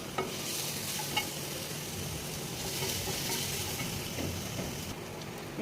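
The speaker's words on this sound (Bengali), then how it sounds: "তো তার জন্য আমি কড়াইতে দিয়ে দিয়েছি তেল, আর দিয়ে হচ্ছে রসুন কুচি" Chopped garlic fries in hot oil in a wok for a pizza sauce, a steady moderate sizzle with occasional sharp crackles and light stirring scrapes, with no voice over it.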